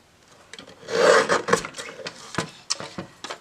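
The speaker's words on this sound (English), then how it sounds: "This cutter blade is not very sharp. So I'll trim the bottom on here." Paper cutter blade trimming a thin sliver off the bottom of a paper bag, a short close scraping rasp swelling and then breaking into a few brief scratchy strokes.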